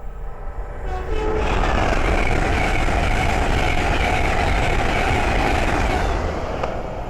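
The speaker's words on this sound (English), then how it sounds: "the next train to pass by is a Hull Train 800 from Edinburgh Waverley to London King's Cross" A Hull Trains Class 800 passenger train on the East Coast Main Line at Great Wymondley passes close by with a loud, sustained roar and rumble of wheels. The brief horn-like tones at the start fade into a steady rush.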